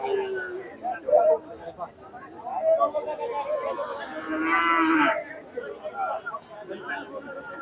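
Young calves and cattle mooing at Rustampur livestock market, several drawn-out moos rising over a background of people chattering and bargaining nearby.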